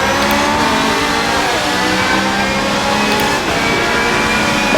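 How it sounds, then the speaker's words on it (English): Race cars streaming past at Barcelona during a Ferrari race, a loud continuous engine roar with overlapping revving pitches as several cars pass close by, no voices. "You can see all the cars going past us now."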